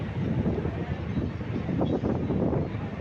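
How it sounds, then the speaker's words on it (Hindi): Helicopter taking off at an outdoor political rally ground in Lohardaga, Jharkhand, a steady loud rotor and engine roar with wind buffeting the microphone throughout, no speech. "ये भी ये तीसरा हेलीकॉप्टर भी ये उड़ान भर चुका है।"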